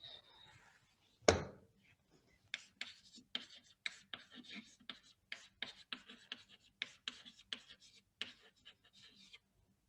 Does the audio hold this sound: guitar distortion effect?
no